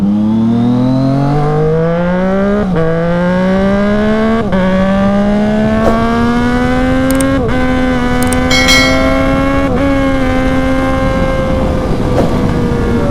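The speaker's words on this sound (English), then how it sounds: "I think that's the most like satisfying quick shifter and auto blipper that I've ever used" Triumph Street Triple RS motorcycle engine rising through the revs in a steady climb, with quick-shifter gear changes cutting in every couple of seconds, each shift marked by a brief dip and an auto-blipper pop, loud and close.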